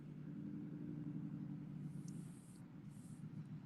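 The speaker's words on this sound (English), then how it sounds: "I'm in the car right now." Low, steady engine rumble inside a car, a constant near drone filling the whole clip with no talk, and a faint high whine appearing briefly near the end.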